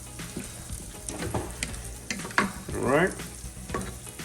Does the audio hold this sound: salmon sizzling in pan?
yes